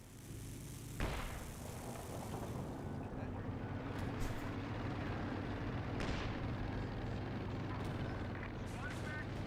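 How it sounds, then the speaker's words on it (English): A rifle grenade blast in the video game Company of Heroes 2: a sharp boom followed by rumbling battlefield noise and a second thump later, under steady commentary. "Explosive and smoke, a rifle grenade."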